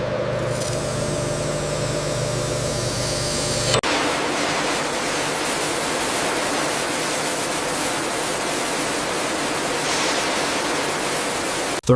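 Coolant floods a crankshaft grinding system in a continuous, loud, hissing rush like heavy spray, shifting in tone partway through and ending with a sharp clunk.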